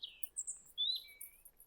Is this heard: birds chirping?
yes